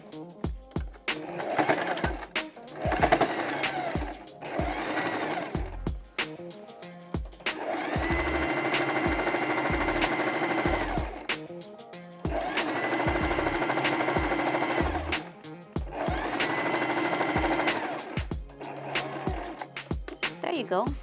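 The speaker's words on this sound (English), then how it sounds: "I'm just gonna use straight stitch to sew all the way down" A sewing machine runs a straight stitch down a fabric handle in several sustained runs separated by short pauses, with a rhythmic mechanical whir and occasional soft knocks between runs.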